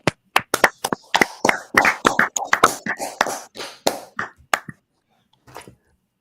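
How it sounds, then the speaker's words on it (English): A group of people clap their hands during a law class, delivering about fifteen sharp, irregular claps over several seconds. A single faint clap follows after a brief pause. "Clap it up."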